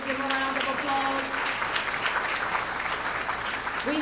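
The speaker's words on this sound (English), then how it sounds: "Can we give them a round of applause?" Applause fills the room at a summa cum laude honors ceremony, an even wash of many hands clapping for several seconds with some voices underneath.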